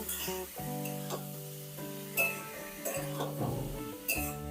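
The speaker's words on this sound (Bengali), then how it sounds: "এবার সব কিছু ভালোভাবে তেলের মধ্যে কষিয়ে নেব" Boiled chital stalks with turmeric and salt are stirred in hot oil in a pan, with soft sizzling, a faint frying hiss and occasional clinks of the spatula against the pan, quiet and close, with no talk.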